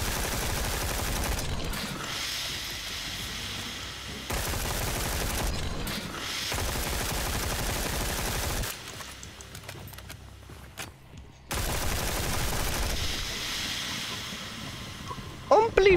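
Gunfire from a weapon in the video game Sker Ritual comes in dense, sustained bursts that keep cutting out and resuming, with hissy noise and brief gaps between volleys.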